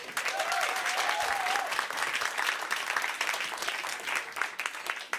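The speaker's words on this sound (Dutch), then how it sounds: "Mag ik even een applaus?" A live-show audience gives a warm round of applause, many hands clapping steadily and fairly close, with a faint whistle near the start before the clapping thins toward the end.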